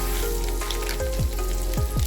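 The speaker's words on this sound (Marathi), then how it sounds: "100 ग्रॅम डिंक आपण इथे तळून घेणार आहोत।" Edible gum (dink) frying in hot ghee, a steady close sizzle with soft popping crackles throughout, no voices.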